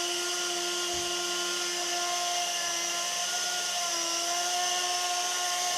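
A Samuria RC mini helicopter flies with a steady high-pitched electric motor and rotor whine, constant and close, with slight shifts in pitch as it maneuvers.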